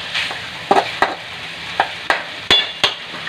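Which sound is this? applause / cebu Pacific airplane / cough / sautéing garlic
sautéing garlic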